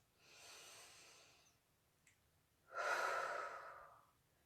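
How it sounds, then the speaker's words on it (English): A person takes two slow, deep breaths during a guided breathing exercise: a long inhale, a pause, then a fuller, louder exhale-like rush of air, close and clear in a quiet room. "Let's just really take a breath where we are."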